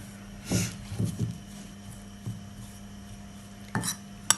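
Breadcrumbs stirred in a metal pan for lobster mac and cheese, a few soft scraping clinks of a utensil against the pan, spaced irregularly with quiet pauses between.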